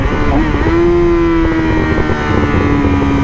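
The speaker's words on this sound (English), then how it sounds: "As you've seen there, I downshifted 2 gears and my RPMs flew up, and it caused the bike to start engine braking." A motorcycle engine drops two gears with rev matching, its note jumping up in a quick blip and then holding a loud, steady whine under engine braking, close to the microphone with wind noise.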